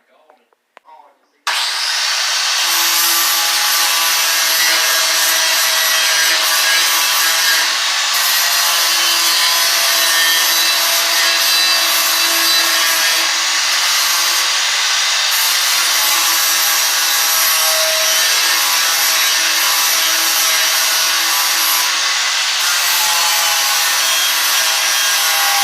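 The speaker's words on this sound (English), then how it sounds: "I've been sanding on these fenders." A sander works on the metal front fenders of a 1955 gasser build, a loud continuous abrasive whir starting abruptly after a quiet moment and running steadily with slight pulsing.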